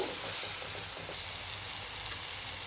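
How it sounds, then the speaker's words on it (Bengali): Spices with turmeric and chili powder frying in a pan, a faint, steady sizzle and hiss that runs evenly throughout with no talking. "মরিচের গুঁড়ো, ভালো করে কষিয়ে নিব।"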